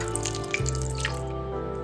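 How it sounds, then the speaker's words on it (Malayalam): Water runs steadily from a tap or is poured onto tamarind in a kitchen while beef with ivy gourd is cooked, a continuous splashing stream for about two seconds with no talking. "നമുക്ക് നമ്മുടെ പുളിയിലേക്ക് ഇച്ചിരി വെള്ളം ഒഴിച്ച് കൊടുക്കാം."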